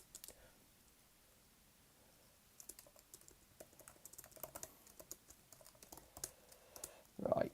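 A computer keyboard is typed on quickly in irregular bursts during a session of the text game LegendMUD. The keystrokes are faint and close, with a louder thump right at the end.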